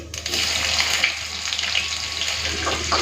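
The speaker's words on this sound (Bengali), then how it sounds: "রসুনটাও দিয়ে দেবো হালকা একটুখানি ভেজে নিই" Chopped onion and garlic frying in a pan, with whole prawns nearby for a curry, give a loud, steady sizzle that runs without a break. No one speaks.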